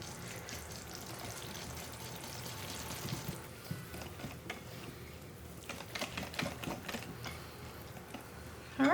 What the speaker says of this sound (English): we're going to give this a nice mix